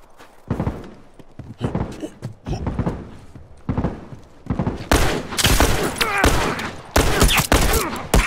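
Rifle gunfire in The Last of Us multiplayer team deathmatch: repeated sharp bursts of shots, close and loud, coming thicker and heavier in the second half.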